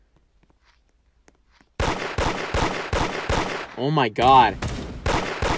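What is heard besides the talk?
gunshots in the Da Hood mobile video game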